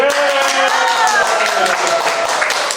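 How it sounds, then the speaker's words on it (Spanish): Loud, close applause from an audience at a law lecture, a continuous burst of clapping, with voices and a tonal hum running underneath. "¡Aplausos!"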